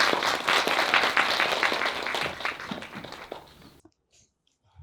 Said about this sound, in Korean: 정현숙 선생님을 큰 박수로 맞이해 주시기 바랍니다.